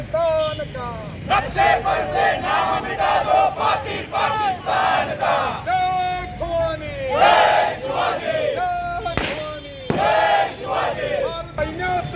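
A crowd celebrating in Sangli shouts rhythmic slogans and chants together, loud and close, with strong voices rising and falling in repeated bursts.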